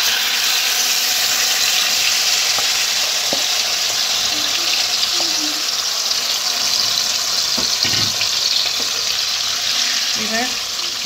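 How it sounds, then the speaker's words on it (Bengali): Marinated chicken frying in hot white oil in a pan makes a steady, loud sizzle throughout, with a few faint clinks and soft knocks over the hiss. "এবার এই তেলে আমি এই ম্যারিনেশন করা চিকেনটা দিয়ে দেব ধীরে ধীরে।"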